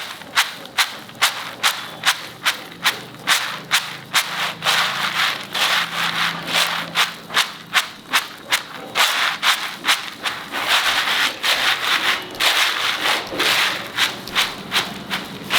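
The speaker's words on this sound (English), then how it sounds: "I'll show you how to separate, to winnow" Skinned roasted groundnuts being winnowed, heard as a fast, regular series of close rustling, rattling tosses, about two or three per second, sustained throughout.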